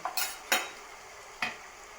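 Ginger-garlic paste frying in oil for chicken pickle: a low background sizzle broken by three sharp spoon scrapes against the pan, close and without talk.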